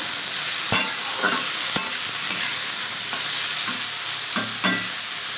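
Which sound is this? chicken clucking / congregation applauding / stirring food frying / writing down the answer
stirring food frying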